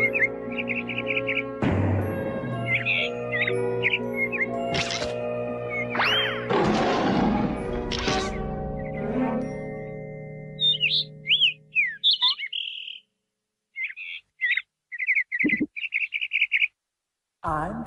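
Cartoon bird chirping in a Tom and Jerry-style animation: bright, repeated tweets and squawks come first over music and sound effects, then continue as short isolated chirps with silent gaps between them.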